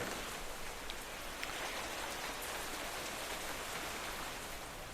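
Steady rain falls in the modded Minecraft video game, an even hiss of dense raindrops that continues unbroken and fairly quiet, with no talk.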